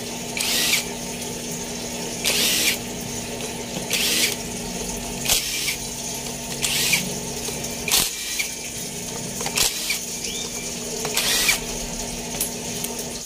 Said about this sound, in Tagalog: Gumamit ng 8mm socket dito sa clutch side.